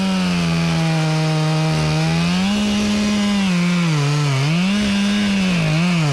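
A chainsaw bores into a silver maple trunk during felling, a loud, close engine whine that holds steady and then dips and rises in pitch as the bar bites into the wood.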